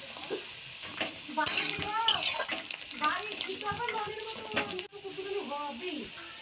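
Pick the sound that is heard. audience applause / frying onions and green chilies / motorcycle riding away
frying onions and green chilies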